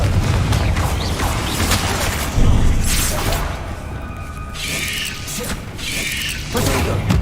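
Confringo explosive spell cast in Hogwarts Legacy gameplay, a burst of booming, crackling blasts with mechanical clatter and game effects running throughout, loud and dense with no voices.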